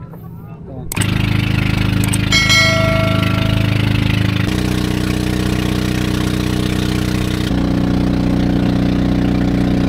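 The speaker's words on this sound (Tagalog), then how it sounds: "kailangan muna natin sumakay ng bangka" A steady, droning motorboat engine runs loud and close after a brief quieter start, with a few short metallic tones early on and no break in the hum.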